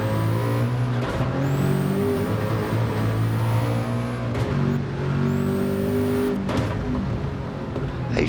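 Race car engines in a racing video game drone loudly and continuously, with rising gear-shift whines, sharp transient bursts as cars pass, and a steady mechanical roar throughout; no clear talking.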